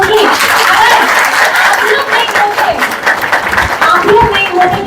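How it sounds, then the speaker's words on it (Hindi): An audience of party workers applauds at a JMM district party office, with dense, loud, continuous clapping and a few chuckles running throughout. "आप लोग अपने लिए जरूर मेरी तरफ से ताली जरूर बजाइए"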